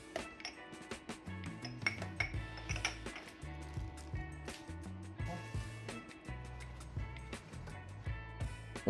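Ramekins are set down on a baking tray and slid into a 180-degree oven, with a run of close clinks, clatters and metallic knocks over a low, steady hum.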